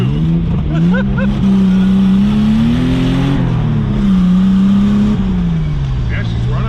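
A Nissan-engined Mazda Miata idles and blips its throttle loudly and close by, the steady engine drone rising and falling in pitch across the stretch, with people talking over it.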